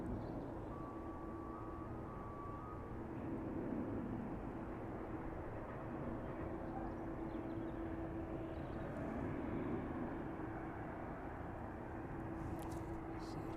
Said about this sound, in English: 757 finally making its way out, just giving way to a few aircraft on final approach